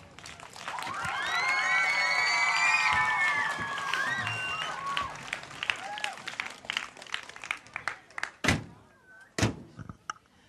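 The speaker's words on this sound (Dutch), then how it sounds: "Applaus." Audience applause and cheering as two beautiful old cars drive in at a talent event, a crowd sound mixed with whistles that thins into scattered claps and a few sharp thuds.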